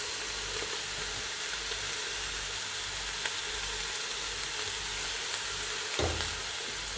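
A pot of kebab stew with tomato, onion and pepper sizzles loudly and steadily up close while being stirred, with a soft scrape of the spoon and a low thump near the end.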